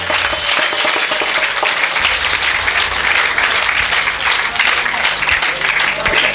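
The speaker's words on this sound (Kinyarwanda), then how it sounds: "komera Imana amashyi" A church congregation applauds, a dense, continuous wash of clapping that stays loud and even from start to finish.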